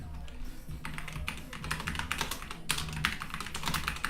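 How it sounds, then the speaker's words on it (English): Rapid keystrokes on a computer keyboard while typing in RuneScape Classic servers, a steady close clatter of taps with bursts and brief pauses, alone without talk. "I'm typing in RuneScape Classic servers"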